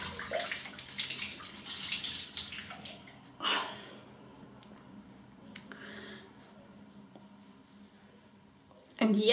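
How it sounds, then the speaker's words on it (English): Warm water splashes and runs from a tap nearby while washing a face, sloshing in uneven bursts, with a person speaking intermittently over it. "Let's get a bit of warm water."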